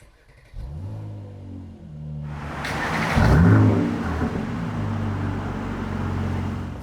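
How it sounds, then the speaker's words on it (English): Mercedes-AMG C43 in Sport Plus with exhaust flaps open, revving hard: a rising engine note swells into a loud, raspy blip around the middle, then settles into a steady throaty idle-rev, close and alone. "And now let's jump into Sport Plus, so that's with the powerful exhaust settings."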